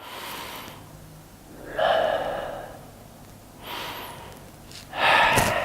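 Several shallow chest breaths imitated by a voice at a yoga class, each a short airy inhale or exhale with pauses between, close and fairly soft, with no speech.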